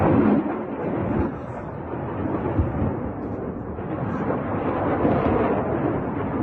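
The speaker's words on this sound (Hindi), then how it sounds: "इराक के अल कायम में कितनी जबरदस्त बमबारी जो है वो अमेरिका द्वारा की गई है" US Air Force bombing explosions in Al-Qaim, Iraq: deep, rumbling, thunder-like booms rolling continuously over a broad roar, loud and heavy throughout without any voices.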